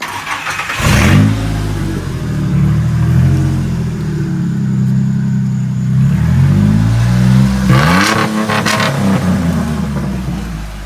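A 1999 Ford F150 with a manual gearbox, 4.2 liter V6 and straight-pipe turn-down exhaust ending before the axle idles, then revs loudly twice in separate bursts, with a deep, rough rumble that holds steady between the revs.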